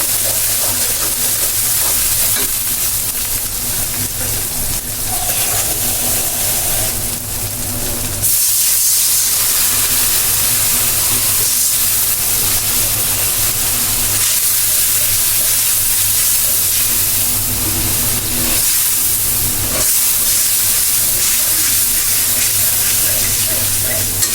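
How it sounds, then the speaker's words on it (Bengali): Spice paste (masala) for a pangas fish dish frying in a pan, a loud steady sizzle and hiss throughout with occasional stirring scrapes. "আমি মশলাটা এখন কষায় দেবো"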